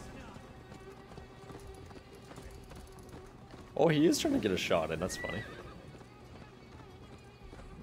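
Hooves clatter in a steady galloping rhythm while a horse lets out a loud whinny partway through, with someone talking over it, in the video game Assassin's Creed Valhalla.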